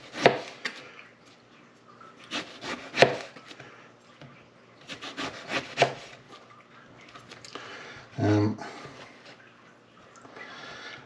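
Knife chopping through aubergine slices on a board, a few crisp separate cuts spaced apart with a heavier thud near the end, close and fairly quiet.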